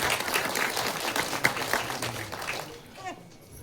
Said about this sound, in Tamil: அழகான ஒரு கைத்தட்டல் கொடுக்கலாம்.